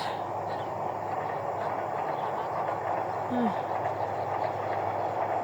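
A train rolls past near farm fields, a steady low rumble that holds at an even level for the whole stretch, with no clear speech.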